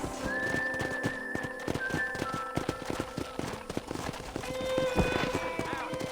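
Horses in the Red Dead Redemption video game neigh and whinny over a steady clip-clop of hooves, with a sharp high whistle early and background game ambience throughout.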